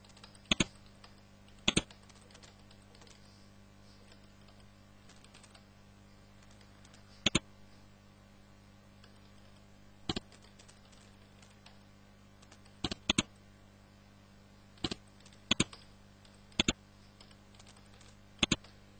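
A computer keyboard types an Excel formula, giving sparse sharp clicks and key taps scattered over a low steady hum, with irregular pauses between strokes.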